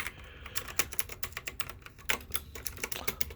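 Rapid, uneven typing on a keyboard fitted with XVX black translucent RGB keycaps, a close run of sharp plastic clacks that keeps going without pause and has no talking over it.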